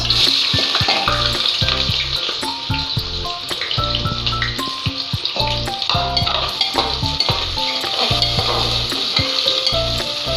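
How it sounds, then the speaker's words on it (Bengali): Whole garam masala, bay leaf and onions frying in hot oil for mutton curry: a loud, continuous close sizzle with steady spoon-on-pan scraping and clinks throughout. "তো তেলে দিয়ে দিচ্ছি গোটা গরম মশলা, তেজপাতা একটুখানি, আর দিচ্ছি পেঁয়াজ।"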